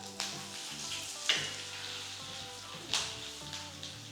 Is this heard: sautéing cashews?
yes